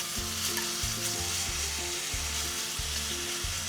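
Meat for Korean duruchigi stir-frying in a hot pan, a steady close sizzle and crackle of frying with no talking, constant and loud throughout.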